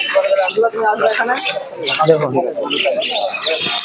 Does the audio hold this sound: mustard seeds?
no